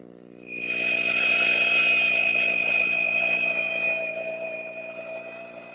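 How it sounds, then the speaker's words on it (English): A woodworking router with a 3/4 inch dovetail bit set 3/8 inch deep spins up and cuts a dovetail slot in wood, a loud, close, steady high-pitched whine that eases off toward the end. "I'm using my router with a 3/4 inch dovetail bit set for the depth of 3/8 of an inch."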